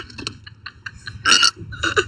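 A girl burping on a livestream with friends: several small belch sounds, then a loud, close burp lasting about a quarter second and a second burp shortly after, over a low background hum.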